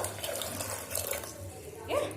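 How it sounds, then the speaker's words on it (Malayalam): Water pours steadily into a pressure cooker, a continuous splashing rush that lasts about two seconds. "ഇനി ഇതിലേക്ക് വേവുന്നതിന് ആവശ്യമായിട്ടുള്ള വെള്ളം ചേർത്ത് കൊടുക്കുക"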